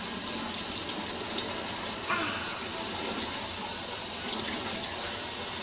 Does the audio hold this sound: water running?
yes